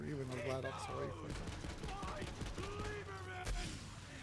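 Rapid automatic fire from a Jakobs assault rifle in Borderlands 3, bursts mixed with game music and effects, partly under a voice talking.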